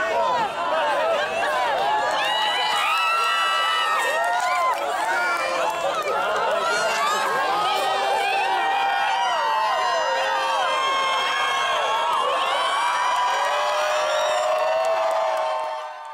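Eclipse viewers at the 2017 total solar eclipse excitedly cheering during totality, a dense crowd of whoops, shouts and overlapping voices sustained throughout.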